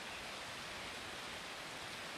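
A river in Washington flows with a steady broadband rush, a constant even wash of water noise heard alone at low level.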